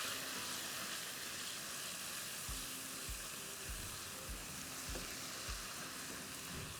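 Keema and spices roast in a pan for a green masala keema recipe. A quiet, continuous sizzle is broken from midway by a regular series of soft stirring thuds.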